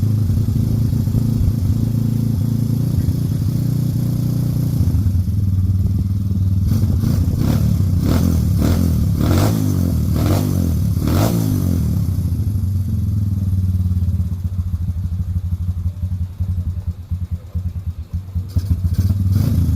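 A carbureted motorcycle in need of a carb cleaning drones loudly and steadily while being ridden. A run of rhythmic throttle pulses surges midway, then the engine settles back into a continuous close rumble.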